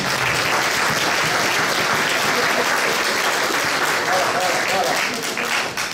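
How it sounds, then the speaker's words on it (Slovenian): Sustained audience applause fills a party members' meeting of a regional political party in Posavje, Slovenia, with dense steady clapping throughout and faint voices mixed underneath. "dajmo en aplavz"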